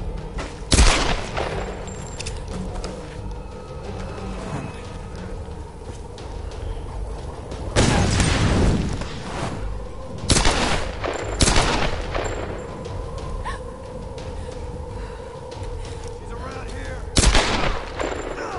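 Gunfire in the Tomb Raider video game, with several sharp, loud shots and short bursts spread over a rumbling in-game background. A player's voice is heard in between.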